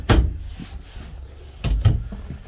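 A full-extension drawer in a 2022 Grand Design Reflection 278BH RV slides open and shut, giving two quiet wooden rolling thumps about a second and a half apart in a hushed room.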